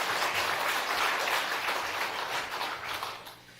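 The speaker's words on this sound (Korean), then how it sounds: "우리 하나님께 영광의 박수 올리겠습니다" A church congregation applauds after a prayer, dense sustained clapping filling the room, loud at first and tapering slightly toward the end.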